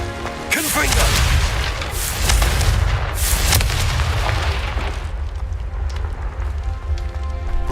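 Blasting spell explosions in the Hogwarts Legacy video game: a sharp onset around half a second in, then loud rumbling booms and crackling debris rolling on for several seconds, with a voice calling out over the din.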